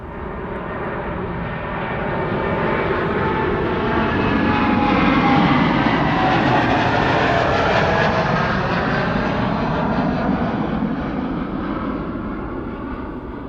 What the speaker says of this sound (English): there's a 777-200 from KLM somewhere in the background